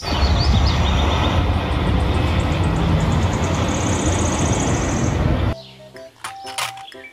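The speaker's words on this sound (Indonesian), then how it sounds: "Kereta Thomas." Toy Thomas train running with a loud continuous motorized whir and clatter that stops abruptly near the end, followed by scattered clicks and squeaky tones.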